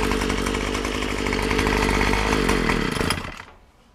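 Troy-Bilt TB25PS 25cc gas pole saw engine running loud and close with a harsh buzzing drone, holding steady for about three seconds before cutting off and winding down to quiet.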